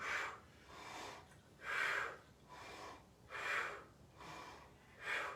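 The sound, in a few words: exhaling during a toe-touch exercise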